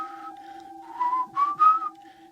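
A voice imitates an eerie whistle: a few wavering, sliding tones rising and falling over a steady low hum, fairly close and quiet.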